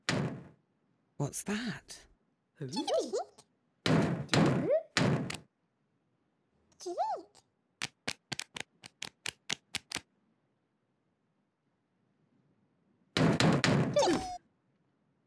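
Rapid series of sharp knocks on a door in a children's cartoon setting with playful characters, about ten quick raps in a row, loud and close, with voices talking before and after.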